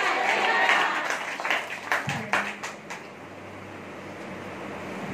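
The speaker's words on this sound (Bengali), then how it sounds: "মহান ঈশ্বরকে একটা বড় তালি দিন" A congregation claps for God during a church worship service, a dense burst of applause that swells briefly, then thins out and fades into room noise.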